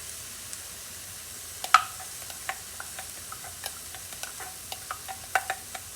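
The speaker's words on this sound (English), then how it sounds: "So in this skillet goes the salsa." Salsa goes into a skillet for Mexican chicken and rice, giving a faint sizzle under scattered light clicks and taps of utensils against the pan.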